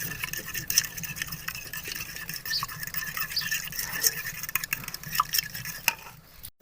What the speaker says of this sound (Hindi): अब ये अंडे हैं मेरे पास, इनको मैंने फेंट लेना है।